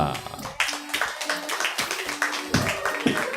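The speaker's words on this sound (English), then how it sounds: "Oh, clap it up, guys." Audience clapping at a comedy theater show, scattered sharp claps in an uneven rhythm, heard close alongside a voice that speaks over them.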